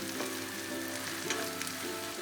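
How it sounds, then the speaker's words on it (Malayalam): Onions and chilli flakes sauté in a pan for a chicken roast, giving a soft, steady sizzle with light crackles throughout and no voices. "നന്നായി വഴറ്റുക. അടുത്തതായി ചില്ലി ഫ്ലേക്സ് ഇടാം."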